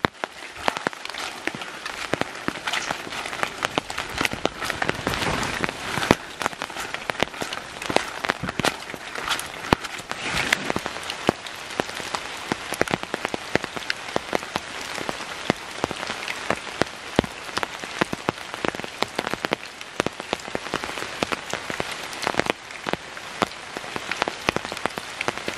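Heavy rain pouring onto a tent or tarp while camping in the mountains, a dense, constant patter of drops with sharper hits throughout, loud and close for the whole stretch.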